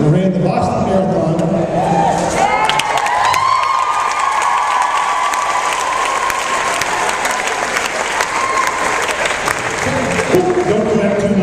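Loud applause and cheering from an audience at a talk, a dense sustained wash of clapping with a few shouts, voices rising over it.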